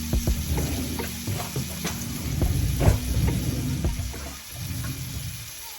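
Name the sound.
bean burger vegetables with scotch bonnet cooking in pan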